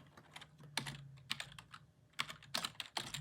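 Python code being typed on a computer keyboard, a few quiet clusters of sharp close key clicks separated by short pauses, with no talking.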